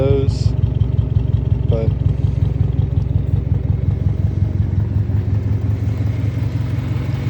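Engine of a CX Honda Civic idling steadily in a garage, a loud, even low rumble throughout while someone talks briefly over it.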